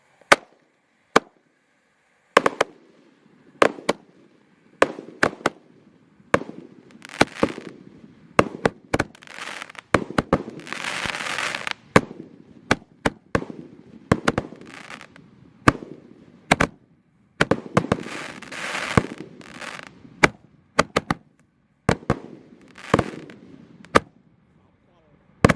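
Five 1.5-inch Roman candle fireworks, lit together for 40 shots, fire a long run of sharp pops. The pops come in irregular bursts, some close together, and each is followed by a brief hiss. Voices talk faintly between the shots.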